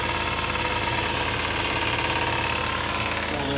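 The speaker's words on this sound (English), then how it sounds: "So here goes a quick listen to the engine." A 2006 Jeep Wrangler engine idles steadily and close by, a continuous even mechanical hum with a faint regular knock, no voices over it.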